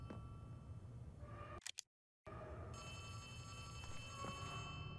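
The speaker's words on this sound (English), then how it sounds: "Who's ringing the phone?" A telephone rings in the Poppy Playtime Chapter 3 video game, a thin electronic ring over a steady background hum, broken by a brief silent gap.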